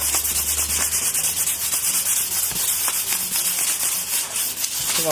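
Rust is polished off a length of AFX slot car track with steady, close, continuous rubbing strokes that sound loud and scratchy, with no talk.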